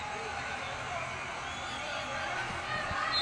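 Artificial crowd noise pumped into a basketball arena during a women's college game, a steady, dense wash of murmur and cheering that holds at an even level throughout.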